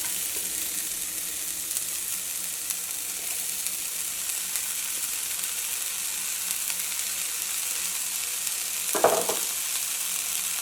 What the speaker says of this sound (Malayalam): ഈ സെയിം പാനിലേക്ക് തന്നെ ബ്രോക്കോളി ചേർക്കാം